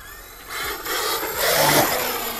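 A radio-controlled car with a spun wheel hub repaired with J-B Weld, its motor whirring and rising in a full-throttle launch attempt with scraping, grinding drivetrain noise, close and fairly loud, no talk.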